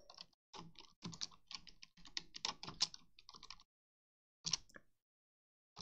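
Quick bursts of keystrokes on a computer keyboard entering a terminal command on Linux Mint, close and clear, with short pauses between words and a final separated key press.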